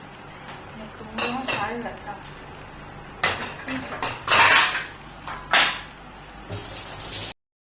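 Steel plates and utensils clatter and clink in a home kitchen as dishes are washed, with several irregular loud knocks and scrapes, while people talk faintly in the background.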